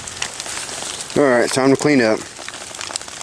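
Rain patters steadily on a tarp shelter at a rainy campsite, a soft continuous crackle under a short spoken line from a man nearby.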